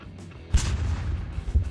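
An MK-82 bomb going off in Garry's Mod: a heavy, muffled low boom hits near the middle, followed by sustained rumbling and a second thud toward the end, with no talk over it.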